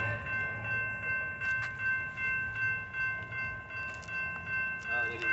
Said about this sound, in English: The Amtrak comes too slow like this.